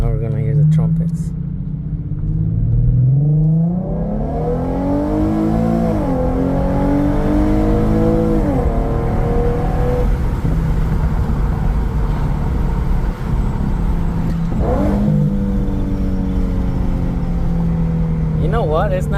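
An Infiniti Q50 with a Remark axleback exhaust accelerates with the windows down, engine pitch sweeping up through several pulls with a deep rumble and shifts between them, loud and close with no talk.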